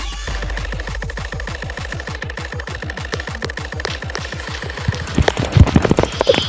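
Rapid automatic gunfire in a shooting video game, loud and close, fires as a long steady burst of evenly spaced shots with a droning tone underneath, then breaks into scattered louder impacts and clatter.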